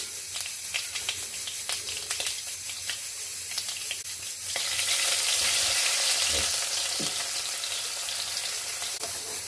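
Mustard seeds popping and crackling in hot oil while cooking beef curry, a steady sizzle that swells louder and brighter partway through, with a few sharper pops close by.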